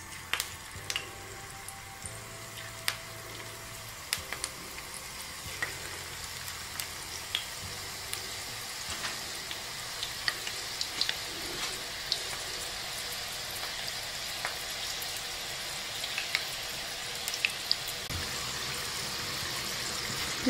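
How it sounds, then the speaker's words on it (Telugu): Lentil chakodi fry in hot oil, a continuous close sizzle and bubbling dotted with small pops and crackles, with no talking. "ఒక్కొక్క చకోడీని మెల్లగా ఆయిల్ లో ఈ విధంగా వేసేసుకొని"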